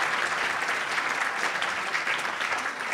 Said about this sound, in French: je pense qu'on peut applaudir nos 3 intervenantes